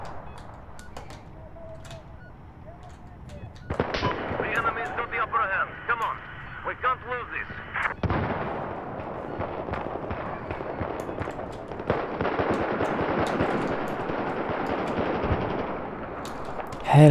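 Battlefield 4 game weapons fire in bursts of rapid automatic shots, loud and close, with sharp individual cracks early on and denser sustained volleys through most of the stretch.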